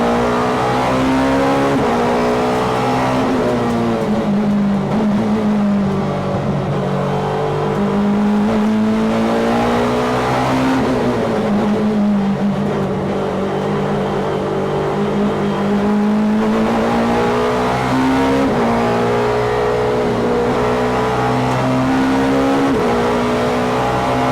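A BMW 318i Super Touring race car engine at Brands Hatch, heard loud and close, its note rising and falling through repeated revs and gear changes for over twenty seconds without pause.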